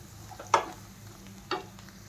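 Turmeric, black masala and red chili powder sautéing in oil for a potato curry, with two distinct spatula scrapes against the pan over a soft, steady sizzle.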